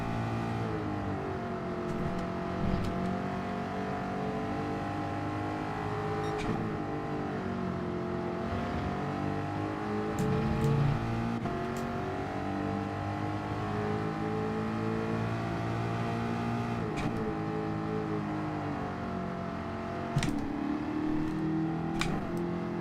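A Group 4 race car lapping Brands Hatch GP Circuit in Gran Turismo 7, its engine droning steadily with rising and falling pitch through gear changes and corners, loud and unbroken, with no talk over it.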